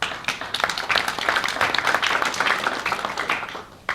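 An audience at a live talk breaks into applause, a burst of many hands clapping at moderate loudness that runs for a few seconds before trailing off.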